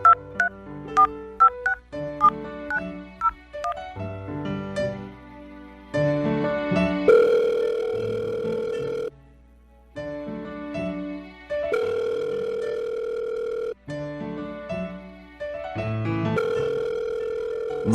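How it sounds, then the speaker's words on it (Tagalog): A telephone keypad dials in bursts of short DTMF beeps, each burst followed by a long steady dial or ringback tone, repeating several times with no talking. "tatawagan ko na"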